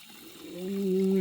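Water gurgles and rushes through the open brine valve of a Fleck 9100 water softener valve, swelling into a steady hissing flow with a low humming tone underneath.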